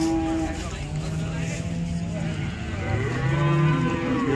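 Cows moo repeatedly at the Modnimb cattle market, drawn-out lowing calls overlapping one another up close amid steady crowd murmur and background voices.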